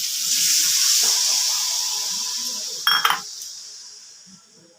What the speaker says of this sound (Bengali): এবার আমি ঝোলটা দিয়ে দিচ্ছি। অর্থাৎ 1 বাটি জল দিয়ে দিচ্ছি।